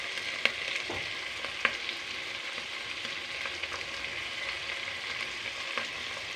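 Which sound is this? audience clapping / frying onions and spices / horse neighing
frying onions and spices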